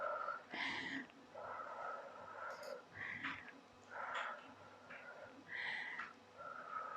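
Breathy exhales during a wall-sit bodyweight exercise at home, several soft puffs of air spaced a second or two apart, close and fairly quiet, with no talking.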